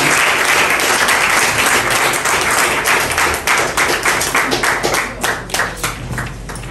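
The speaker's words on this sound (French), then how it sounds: "Est-ce qu'on peut applaudir très fort pour lui?" An audience at a company inauguration event gives loud, sustained applause that thins into scattered, distinct claps toward the end.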